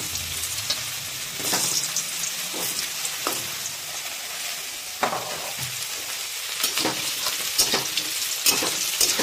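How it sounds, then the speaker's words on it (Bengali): Potatoes frying in oil left over from frying fish, a steady sizzle with crackling pops and occasional stirring scrapes, close and fairly loud with no talk. "যে তেলটা বাঁচলো সেই তেলেই আমরা কিন্তু আলুগুলোকেও ভেজে নেব।"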